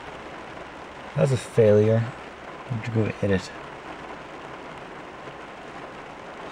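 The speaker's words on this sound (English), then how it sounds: "now it's piss pouring rain" Heavy rain pours onto a car in a steady, dense hiss throughout, while someone briefly speaks over it in two short phrases.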